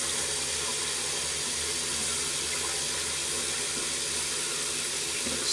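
A tap runs in a steady, loud, unbroken hiss of water while a shaving razor is rinsed under it, with no voices over the flow.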